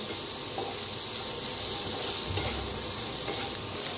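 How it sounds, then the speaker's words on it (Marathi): Onion, garlic and ginger frying in a pan for restaurant-style egg curry, giving a steady broad hiss and sizzle throughout, close and even, with no voices. "आता ह्याच्यातच कांदा भाजून घेऊया, ह्याच्यातच टाकूया लसूण आणि आलं, त्याला बी भाजून घेऊया"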